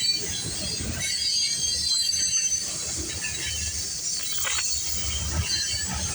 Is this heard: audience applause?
no